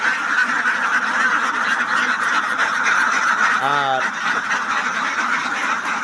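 A dense chorus of ducks at a duck farm quacks and honks continuously, with one louder nasal call standing out near the middle and a voice speaking briefly.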